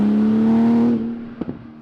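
Porsche 991 GT2 RS engine revving hard under acceleration, a loud sustained harmonic drone that holds steady, then eases off and drops away with a couple of short bursts near the end.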